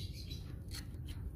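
A pet myna squawks in a couple of short, harsh bursts over a low background rumble, with no speech.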